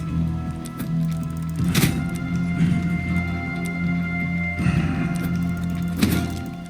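Several heavy thunking impacts land at uneven intervals over a steady electronic hum: a hatchet striking an enemy in the survival game Desolate.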